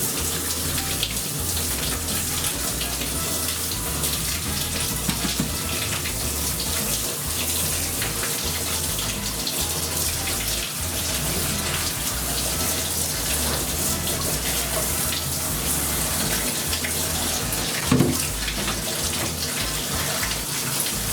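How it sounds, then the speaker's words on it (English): Shower water rinses a Shih Tzu during weekly grooming, a close, continuous spray and splatter that runs steadily for the whole stretch, with one brief knock partway through. "And now I'm going to rinse her off again."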